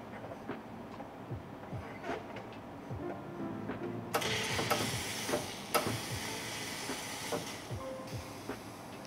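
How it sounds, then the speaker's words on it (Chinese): An espresso machine's steam wand froths milk in a café setting: a faint low hiss first, then a sudden louder, steady broadband hissing for the second half. "这是我打好的奶泡"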